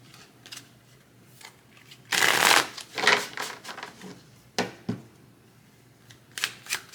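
Tarot cards are shuffled and riffled by hand nearby, producing scattered crisp flicks and a louder riffle burst, with quiet gaps between.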